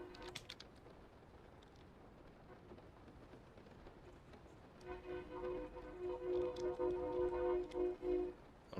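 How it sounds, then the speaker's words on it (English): A train passes at a distance, its horn rising as a steady tonal drone about halfway through and swelling over a low rumble, with light keyboard tapping in a quiet room. "I don't know if y'all hear that train."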